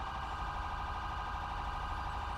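A steady electronic police siren in the video game GTA 5 wails continuously at moderate volume, sounding slightly distant and synthetic, with no voices.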